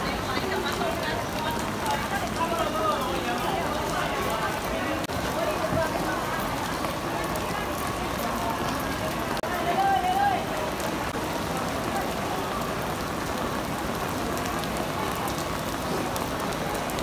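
Steady rain falls on a Hong Kong street on a May afternoon, an even wash of drops hitting the pavement throughout, with indistinct voices faintly underneath.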